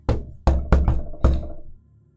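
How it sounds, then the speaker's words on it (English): Five loud, close knocks on a stone barricade, struck in an uneven pattern of single raps and a quick pair, each ringing out briefly before the next. "So you do the knock."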